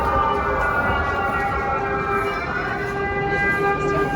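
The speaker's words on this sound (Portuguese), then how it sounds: "A sirene dispara em megafones espalhados pela cidade." An air raid siren wails from city megaphones in Lviv during wartime, a loud, steady tone that holds without pause, heard alone against the city background.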